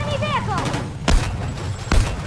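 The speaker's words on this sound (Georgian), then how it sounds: "აფეთქდა." Two loud, sharp explosions in Battlefield REDSEC burst about a second apart, blowing up a tank, following a few rising electronic tones and talk.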